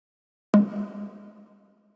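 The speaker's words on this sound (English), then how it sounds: "So the next sound we have here is this tom" A single drum-machine-style tom hit from a chill bass music kit, a sharp attack settling into a low, round, ringing tone that decays over about a second, dry and alone.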